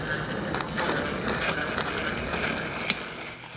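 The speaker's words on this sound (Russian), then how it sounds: "И обычным погружным блендером все измельчаем." Immersion blender pureeing zucchini soup in a pot, a steady whirring buzz with faint rattling that holds at a constant level for a few seconds, close by, with no talking.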